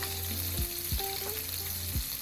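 Green chilies and cashews frying in hot oil give a steady close sizzle, with a few scraping stirs of a spoon cutting through the crackle.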